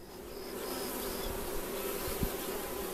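Honey bees buzz around an open beehive in a dense, continuous drone, close and steady, with a few individual bees whining past.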